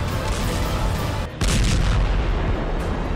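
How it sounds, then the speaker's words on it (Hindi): Explosions in Beirut during Israeli air strikes, a loud sustained rumbling roar of blasts that dips briefly before surging back, heavy and distant-sounding without speech. "लेबनान की राजधानी बेरूत धमाकों से दहल गया"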